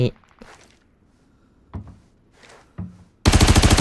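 Scattered gunshots and thuds in the Arena Breakout shooter, a few isolated distant-sounding bangs spaced apart, then an abrupt loud burst of rapid automatic fire at the end, with a voice talking in between.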